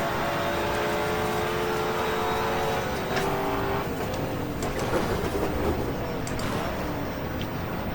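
Touring cars from the 1987 British Touring Car Championship race at Silverstone, engines droning steadily at close range with a rising and falling roar as cars work through the Abbey corner, no talk heard.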